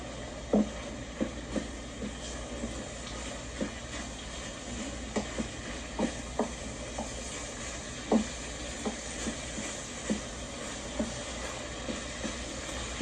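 About three pounds of ground beef picadillo being stirred in a sizzling pan, a steady frying hiss broken by repeated scrapes and taps of a spoon against the pan, quiet and close.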